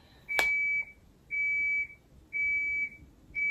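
Electronic beeping: four long, steady high-pitched tones in a regular pattern, each about half a second, separated by short pauses.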